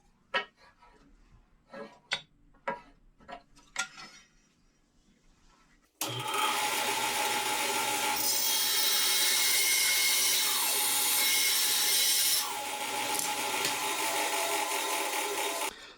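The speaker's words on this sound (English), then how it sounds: "I'm going to run one of these test ones through the bandsaw and just rip it down" Bandsaw ripping a wooden test piece for a brass resonator guitar body, a few clunks and handling knocks first, then a loud sustained whining cut for several seconds that eases off near the end.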